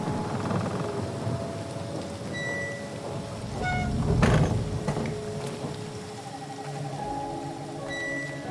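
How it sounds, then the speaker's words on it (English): A thunderstorm in the video game Tell Me Why, with steady rain on surfaces and a rolling rumble of thunder that swells near the middle, alongside faint tonal game music and no voices. "Of course it's a stormy night"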